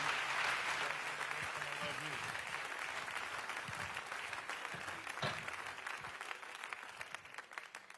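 A church congregation applauds steadily to welcome a preacher back to the pulpit, a dense wash of clapping across the room that slowly thins toward the end.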